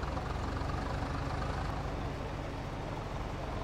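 Tractor engine in Farming Simulator 22, on the East Groningen map, droning steadily at a low, even pitch throughout, loud and continuous with no voices over it.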